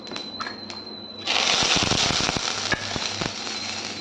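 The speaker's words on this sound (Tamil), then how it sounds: "இப்போது நம்ம தாளிக்க போகிறோம்." Spices and asafoetida hit hot oil for tempering a gooseberry rasam, bursting into a sudden loud sizzle with sharp crackles and pops after a quieter opening with a few light clicks.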